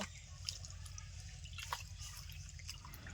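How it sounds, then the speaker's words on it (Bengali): Water dripping and trickling faintly and steadily while pumpkin leaves are washed by hand, with a low background hum. "কুমড়ো পাতাগুলো ভালো করে ধুয়ে নেব"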